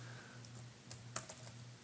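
Typing on a computer keyboard: a handful of quiet, irregular key clicks over a faint low hum, alone and close.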